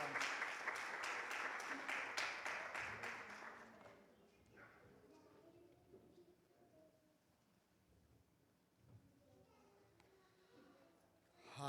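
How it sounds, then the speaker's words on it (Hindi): A church congregation at a children's Sunday service bursts into loud applause welcoming a pastor, the clapping fading after about four seconds into quieter room murmur and scattered voices. "हम तालियों के साथ हम उनको वेलकम करेंगे"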